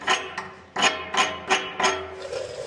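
A chipping hammer knocks slag off a fresh weld on a trailer: five sharp metallic strikes at an uneven pace, close and fairly loud, with no talk.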